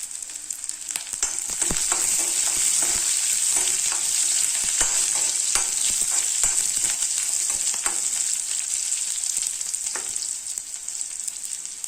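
Dried red chillies sizzle and crackle steadily in hot oil for a brinjal curry, a continuous close frying hiss broken by occasional sharp pops and stirring clatters, with no voices.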